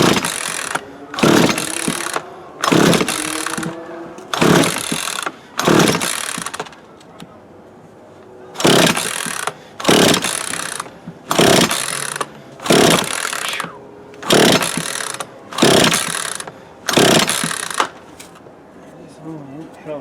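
A Craftsman 42cc chainsaw that has sat unused for years, flooded with fuel, is pulled over and over: about a dozen loud, rhythmic starter-cord rips with short gaps between them, and the engine never catches.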